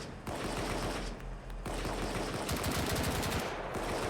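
Sustained machine gun fire in the video game BRM5, loud and continuous with dense rapid bursts and brief pauses, rattling on throughout with no talk.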